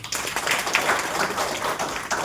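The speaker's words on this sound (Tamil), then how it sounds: "இதுக்கெல்லாம் ஒரு பெரிய கைத்தட்டல்." A crowd at a colorectal cancer awareness event claps together in a dense burst of applause, lively and continuous for a couple of seconds.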